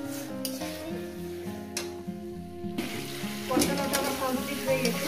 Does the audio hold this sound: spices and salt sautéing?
yes